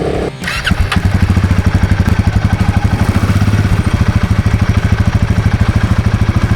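A Royal Enfield Himalayan 450 adventure motorcycle cruises with a loud, steady, close engine drone and a rapid pulsing exhaust beat, after a brief rough burst at the start.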